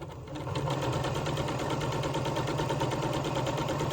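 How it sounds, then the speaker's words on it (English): A sewing machine runs steadily, stitching a few short stitches across the crotch seam of pants and back down the other side at about a quarter-inch stitch width, a continuous close mechanical whir with no talking. "we'll take a few stitches across, 3, maybe 4, and down the other side"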